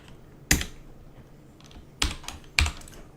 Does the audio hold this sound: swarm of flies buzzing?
no